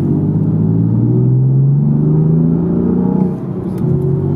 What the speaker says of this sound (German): fährt er wirklich hier mit ganz wenig Gas, so gut wie gar nichts